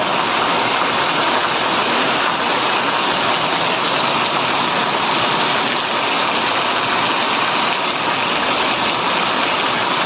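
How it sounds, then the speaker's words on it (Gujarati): Heavy downpour in Gariyadhar during sowing season, a steady, loud, dense hiss of rain with rushing running water underneath, continuous and unbroken throughout with no speech. "આપ જોઈ રહ્યા છો જો વરસાદ પડી રહ્યો છે"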